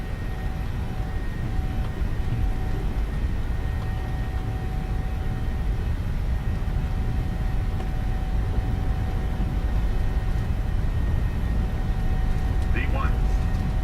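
Airliner engines at takeoff thrust in a flight simulator give a loud, steady low roar and rumble that carries through the whole stretch, with speech heard over it.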